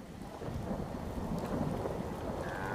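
Rain with rolling thunder in the video game Fallout 4, a faint, steady wash of rainfall under a low continuous rumble with no talking.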